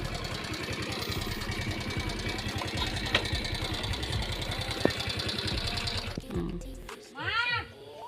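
A motorcycle engine idles with a steady close rumble for several seconds, then cuts off and a voice speaks briefly.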